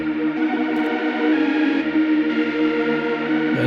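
A synth sound run through FL Studio's Flangus flanger and chorus plugin, a steady sustained tone with a swirling, sweeping, phased texture, loud and continuous with no speech.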